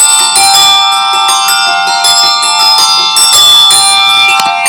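A handbell ringing loudly and continuously nearby, bright metallic tones repeating in a steady shaking rhythm.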